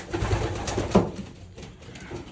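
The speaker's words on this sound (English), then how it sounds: "These are my old bird cocks." Racing pigeon cocks, older birds in a loft, coo softly and low in a few murmuring bursts over a steady background rustle, with no talking.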